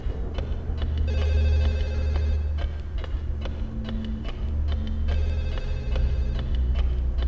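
A telephone rings in the horror video game Siren 2, its electronic bell trilling in repeated bursts over a low droning background hum, loud and close, with no talking.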